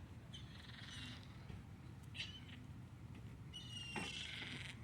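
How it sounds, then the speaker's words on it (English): Birds chirping outdoors, several short high calls and trills scattered over a soft background hiss, faint and somewhat distant, with no talking. "These goddamn birds."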